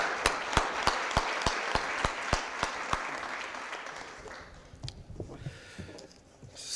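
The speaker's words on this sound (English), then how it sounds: "So join me in a round of applause for Pastor Brown and the Clergy Coalition." An audience at a St. Louis Board of Aldermen meeting applauds, with sharp, evenly spaced claps over a dense wash of clapping that fades out after about four seconds, leaving faint room noise.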